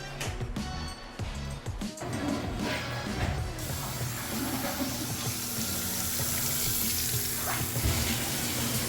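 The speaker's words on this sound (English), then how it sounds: "I always make sure I turn on the hot water just to make sure the hot water heater is working too" Hot water running from a house tap, a steady rushing hiss that swells and settles into a continuous stream after a few opening clicks and handling noises, with no one speaking.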